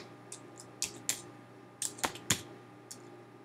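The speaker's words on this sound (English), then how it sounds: "So if I start typing MP3 here" Keystrokes on a computer keyboard while text is entered into a table in Keynote, a few sharp clicks in an uneven, hesitant rhythm, close and fairly quiet.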